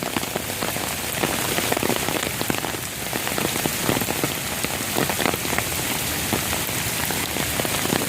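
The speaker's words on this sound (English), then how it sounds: "This is the second day of rain" Steady rain falls on a Houston backyard, a dense, even patter of drops striking surfaces that continues unbroken and fairly loud throughout.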